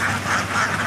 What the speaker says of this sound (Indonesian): 300 ekor bebek petelur Jawa kita dari sungai ya, kita mandikan di kali ini.